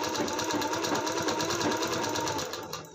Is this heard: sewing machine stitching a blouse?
yes